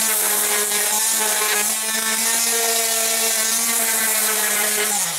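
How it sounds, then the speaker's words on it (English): Sanding the top of a wooden flight simulator yoke body with a power tool gives a steady, close whine and gritty abrasion throughout, with no pauses. "Right now I'm gonna sand off the top just a little bit to make it pretty"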